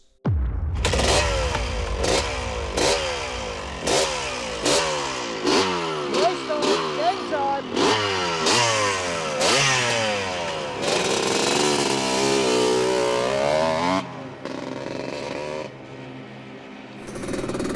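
A 47-year-old two-stroke motocross motorcycle ridden around a track, its engine loudly revving up and dropping through repeated gear changes and throttle bursts, close and continuous for most of the run before easing off.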